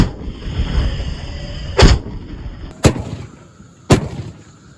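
Three loud, sharp booms from carbide shooting with a carbide cannon ring out outdoors one at a time about a second apart, each a deep blast with a short echoing tail over low wind and crowd noise.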